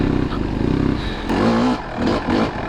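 Motorcycle engine running while riding, a Kawasaki KX250 or BMW F800GS fitted with a Rekluse auto clutch, with steady harmonic drone that rises in pitch as the throttle opens, loud and close throughout.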